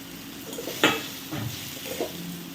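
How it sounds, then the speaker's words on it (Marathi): Roasted okra is sautéed in a pan, with a spatula scraping and stirring in a few distinct strokes over a steady sizzle, close by and with no talking. "तर छान परतून घेऊया आपण"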